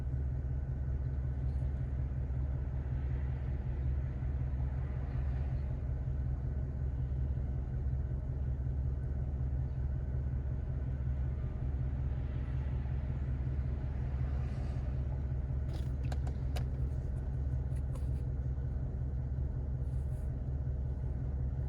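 A Cadillac DeVille engine runs steadily at idle, a low even rumble that holds level throughout, fairly quiet and heard alone with a few faint clicks toward the end.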